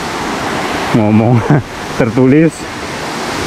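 Waterfall at Curug Papat in Rejang, Bengkulu, a steady broadband rush of falling water that continues throughout, with someone talking over it in two bursts.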